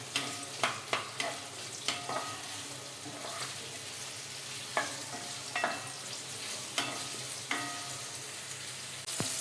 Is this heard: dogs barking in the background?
no